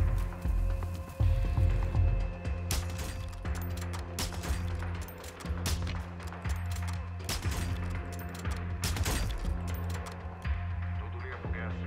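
Rapid gunshots crackle in the video game Call of Duty: Modern Warfare 2, with bursts of fire and scattered single shots over a busy, continuous game soundscape.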